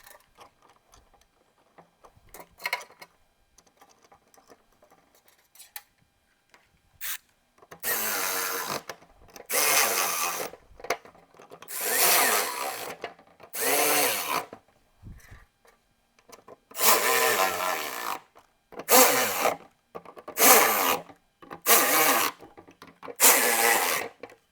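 Screws being driven back into an OBS Ford instrument cluster, heard as a series of close, separate bursts of ratcheting, rubbing driver noise with short pauses between them and quiet handling sounds early on.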